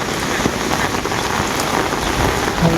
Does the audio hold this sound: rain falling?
yes